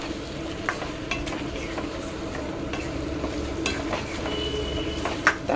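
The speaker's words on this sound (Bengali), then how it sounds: "এখানে দিয়ে দিয়েছি মাংস, এবার এটা সুন্দর করে কষো" Meat is stirred and sautéed in a pan, with a steady soft sizzle under repeated spatula scrapes and light metallic taps, close and moderately loud.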